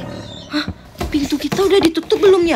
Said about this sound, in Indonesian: Kayak bunyi suara harimau.